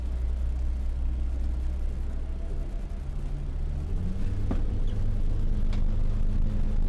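The motorboat POMOR's engine rumbles steadily on a canal, then the revs build to a stronger, deeper drone, with a couple of faint clicks over the top.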